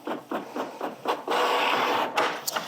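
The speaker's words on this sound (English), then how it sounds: "So let's print the test and then find out how many I'm gonna do." Office printer running off a test page, giving a series of short mechanical bursts that merge into a steady whir and feed sound, close and alone.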